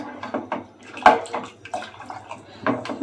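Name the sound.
water being poured into sambar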